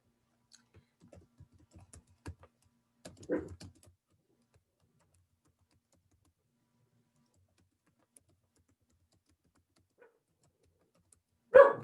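Sparse, faint clicks of typing on a computer keyboard, with a few scattered keystrokes early on, a louder knock partway through and another sharp tap at the very end, separated by long quiet gaps.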